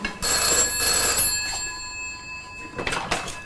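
A telephone bell rings loudly and close by, a long ring followed by quieter fading rings, with no voices.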